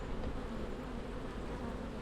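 Honey bee drones buzz inside an open beehive, a dense, steady, fairly quiet drone with no voices.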